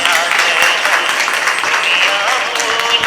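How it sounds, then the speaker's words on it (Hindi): A crowd claps loudly and continuously at a Jain religious gathering for Guru Purnima in Pune, a dense wash of applause filling the whole stretch without pause. "एक बार जोरदार तालियां बजाएं।"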